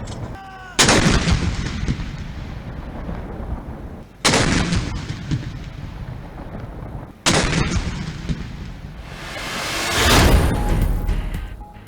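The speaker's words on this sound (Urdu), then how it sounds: "توپوں کی سلامی بھی دی گئی۔" Ceremonial cannon salute: three loud, booming blasts a few seconds apart, each with a long rolling echo that fades, followed by a swelling rumble.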